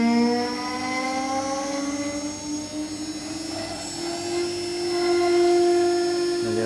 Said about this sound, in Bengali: স্পিন্ডেল ঘোরা শুরু হয়ে গেছে আর মেশিন আস্তে আস্তে যাচ্ছে।